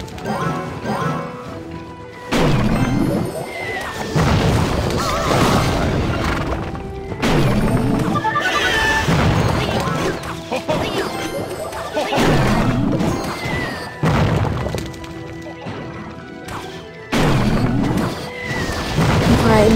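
Repeated heavy impacts and crashes as a mortar unit fires on and strikes an enemy tower during a Clash Royale battle, the thuds landing every couple of seconds over busy game effects and music.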